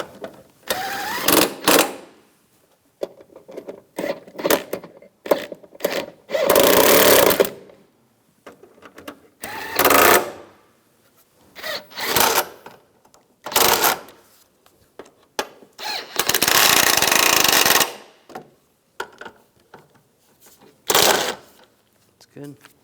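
Power tool bursts tightening front strut fasteners on a 2004-2009 Toyota Prius, a series of loud whirring runs of varying length, some long and some short, separated by pauses with faint speech and handling noise between.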